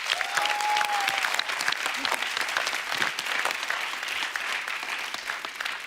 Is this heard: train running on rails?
no